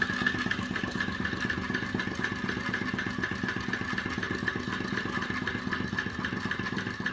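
A small gas-heated two-cylinder flame-eater engine runs slowly and steadily with a rhythmic chugging clatter and a constant tone, close by and fairly loud.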